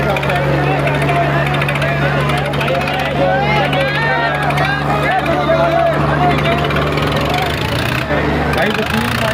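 A heavy tractor's engine runs with nobody in the driver's seat, a loud, continuous diesel drone with rattling texture, close by, while people talk over it.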